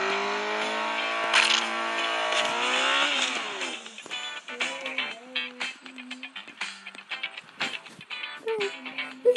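A motorcycle engine in the game Turbo Dismount revs and whines with rising and falling pitch, steady at first, then breaking into short choppy bursts and clatter.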